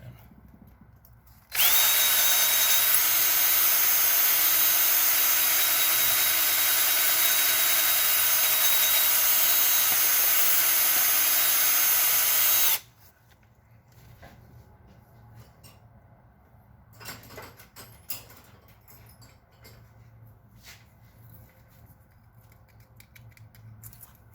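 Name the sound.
1/4-inch drill drilling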